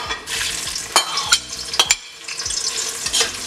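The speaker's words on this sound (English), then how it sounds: "We fried onion." Onion fries in hot oil in a pan, a crackling sizzle broken by several sharp scraping stir strokes, close and clear with no talk.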